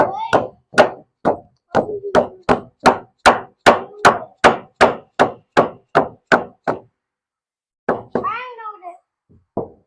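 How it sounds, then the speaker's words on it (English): Hammer blows strike a wooden block to drive it into place on deck framing, about eighteen sharp, evenly spaced knocks close by, then a pause and a short burst of voice. "just hammer it in until I get it where I need it"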